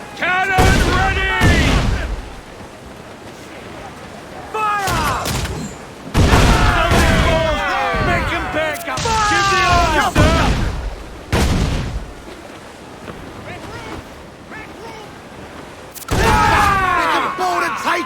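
Ship cannons in the Assassin's Creed 4 Black Flag video game boom again and again in loud, heavy volleys, with several separate bursts of blasts and rumbling impacts spread across the naval battle.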